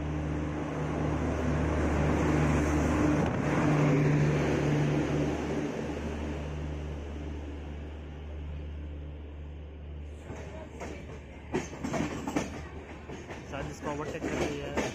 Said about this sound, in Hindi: ओवरटेक कर रही है सोलापुर भुसावल, सोलापुर भुसावल एक्सप्रेस को ओवरटेक कर रही है